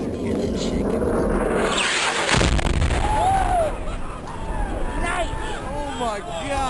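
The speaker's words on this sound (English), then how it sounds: "Androl dropped the bomb on his first pass over the building" A 2,000-pound JDAM bomb dropped by an F-16 on a building explodes as a sudden deep blast with a low roar rolling on afterward, heard under wind noise and excited shouting voices.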